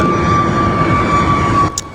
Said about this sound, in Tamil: டாக்டர், மேல ஃப்ளைட் போகுது பாருங்க.